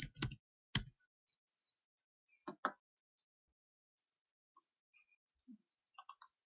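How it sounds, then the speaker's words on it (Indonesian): Sparse clicks and short bursts of keystrokes on a computer keyboard, quiet and close with long pauses between, no voices. "kita bisa ketikkan perintah SQL plus, kemudian ketikkan username"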